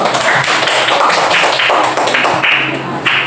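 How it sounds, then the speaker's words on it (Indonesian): A class of students claps hands together in a classroom during an Islamic studies lesson, a dense, steady run of loud claps that fills the whole stretch with little talk. "Coba tepuk tangan dulu."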